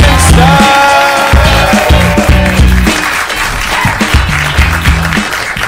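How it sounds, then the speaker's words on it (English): Audience applause greets the final roaster taking the stage at a comedy roast, loud clapping mixed with rhythmic walk-on music carrying strong beats and melody throughout. "We need to bring up this applause for your final roaster of the evening"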